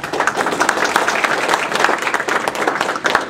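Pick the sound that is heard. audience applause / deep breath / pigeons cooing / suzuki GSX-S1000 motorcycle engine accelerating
audience applause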